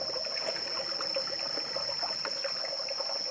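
Water being poured to fill a hand-operated, non-electric well pump, giving a faint, steady trickle with small scattered bubbling pops, quiet and close, and no voices.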